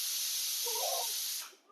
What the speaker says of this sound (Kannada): ಕುಕ್ಕರ್ ವಿಷಲ್ ಓಪನ್ ಮಾಡ್ತಿದ್ದೀನಿ.